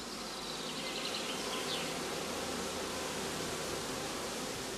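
Honeybees buzzing around a traditional straw skep hive on the heathlands of northern Germany, a dense, continuous hum with occasional nearer bees passing, steady and with no talk.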